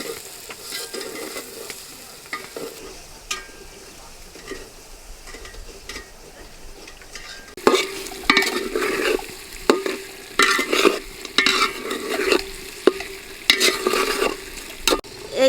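Spiced fish frying and being stirred in a pan for a Bengali potato curry: steady sizzling, quieter at first, then louder from midway with repeated scraping stir strokes.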